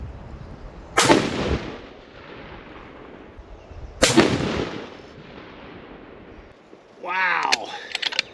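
Two loud, sharp rifle shots roughly three seconds apart, 160 grain Nosler ballistic tip loads fired in a 5-shot group, each with a long fading echo, then a brief voice near the end.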